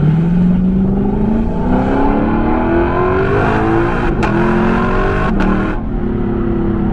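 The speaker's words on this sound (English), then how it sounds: "You still get to enjoy the sounds of a true sports car." A 2022 Lexus LC500 sports car engine pulls hard under acceleration, its loud, close, rising tone climbing steadily through the revs, with brief shift breaks and sharp crackles near the end.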